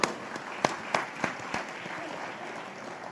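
An audience at a business leadership awards ceremony applauds, a moderate wash of clapping with a few sharper individual claps standing out near the start before settling into a softer, steady patter.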